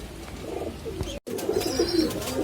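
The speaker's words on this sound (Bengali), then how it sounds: "আমার হাতে এক পেয়ার কবুতর দেখতে পাচ্ছেন, এইটা হলো নীলদুম্বা কবুতর" A pair of Nil Dumba pigeons coo softly at close range, a few low, rounded calls on either side of a brief dropout in the sound.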